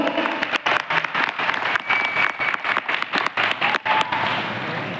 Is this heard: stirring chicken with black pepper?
no